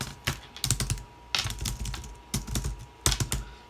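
Typing on a computer keyboard at a home workstation, with bursts of rapid close clacking keystrokes separated by short pauses, loud and clear without any talking.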